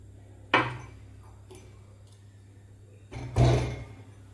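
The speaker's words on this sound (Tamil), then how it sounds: "ஒரு துண்டு இஞ்சி, 2 ஏலக்காய் இது நெசிக்கு தட்டி போட்டுப்போம்" Two sharp pounding thuds, a few seconds apart, as a piece of ginger and two cardamom pods are crushed against a hard surface, with faint clinks between them.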